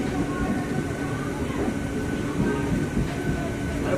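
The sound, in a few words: train stopping at Panskura station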